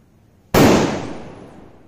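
A single very large hydro firecracker detonates in one sudden, loud, close blast after brief quiet, followed by a long fading rumble and echoing tail.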